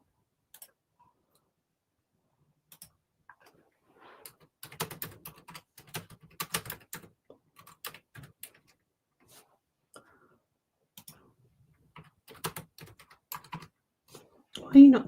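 Keys tapped on a Mac computer keyboard, scattered clicks in short uneven bursts with quiet gaps, close and fairly soft, ending in a louder knock.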